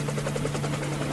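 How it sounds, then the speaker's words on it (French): A helicopter hovers over a hospital rooftop, its steady rotor buzz and low hum continuous and fairly close throughout the short stretch, with no voices. "L'hélico est là."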